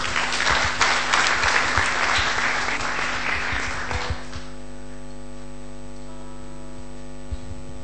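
A church congregation claps together for about four seconds, loud and dense over a constant electrical hum, then the clapping stops and only the hum remains.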